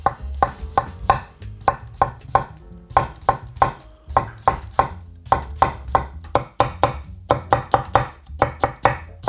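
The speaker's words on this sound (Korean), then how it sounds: "오이도 채 썰 거예요." A knife julienning cucumber on a cutting board taps out quick bursts of crisp chops, close and clear, with short pauses between runs and no talk.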